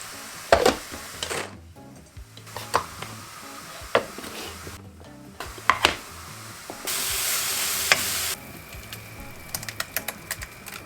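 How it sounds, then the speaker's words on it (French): Onions frying in a pan while water is poured in to deglaze them, close stirring clicks and scrapes, then a burst of steady hissing sizzle lasting about a second and a half, with no talking. "Je vais mettre de l'eau. Et avec ça, on va déglacer les oignons."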